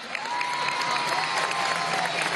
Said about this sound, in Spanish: Un aplauso a Taína.